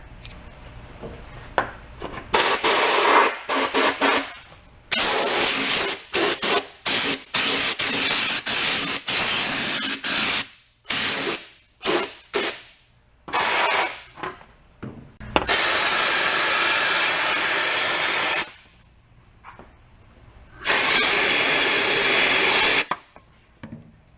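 Spray painting the frame of a backyard Oldsmobile Cutlass: repeated loud hissing bursts of an aerosol or spray gun, some long and some short, separated by quiet gaps, close by.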